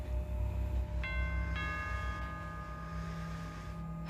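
A doorbell rings in a tense domestic drama scene, two bright chime tones struck about half a second apart and left to ring out over a low room hum, with no talking.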